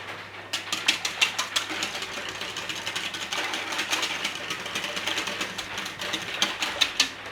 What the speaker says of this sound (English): all we're going to do is bring all that egg milk mixture together